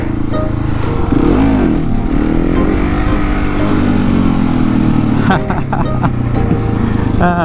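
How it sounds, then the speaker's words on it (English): A motorcycle, a 701, revs steadily through a second-gear wheelie attempt, its engine droning loud and close the whole time while a person talks over it. "we practice second gear wheelies"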